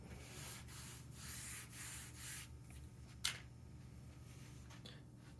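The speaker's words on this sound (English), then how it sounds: "Just a tiny bit of sandpaper will work. This is 220." A piece of 220-grit sandpaper rubs extra blobs of super glue off a workpiece in quick, faint, close strokes with brief pauses between them.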